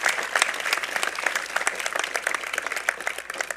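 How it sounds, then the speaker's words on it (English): A convocation audience at Trent University gives a warm round of applause for Stephen Tyler, steady dense clapping that fills the hall, moderately loud and sustained throughout without pause. "Please, a warm round of applause for Stephen Tyler."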